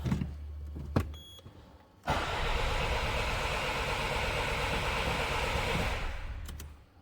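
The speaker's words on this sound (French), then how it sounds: "le démarreur tourne bien" Starter motor cranking on a 2004 Citroen C5 2.0 HDi diesel: a few short clicks, then a loud, steady churning whir for about four seconds before it winds down.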